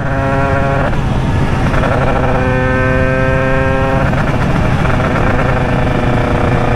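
A tuned Derbi 50cc two-stroke motorbike with a 96 Bidalot WR kit, already warmed up, drones loudly and close, its buzzing tone rising and falling as the revs shift.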